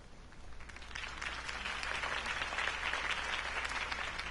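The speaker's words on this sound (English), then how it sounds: "could have heard that applause" Enthusiastic applause from a crowd at a political campaign speech in the Batman game builds and holds, dense clapping that swells louder toward the end.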